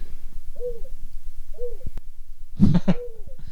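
A man imitates an owl with soft hooting calls, two low hoots followed by a louder breathy double hoot, alone in a quiet room.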